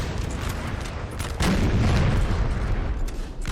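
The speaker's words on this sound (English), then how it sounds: "the artillery is going to start getting kind of brutal" Artillery in a Napoleon: Total War battle during a 1799 campaign in Flanders: a constant roar of battle noise with a heavier boom swelling in about midway, dense and continuous with no clear gaps.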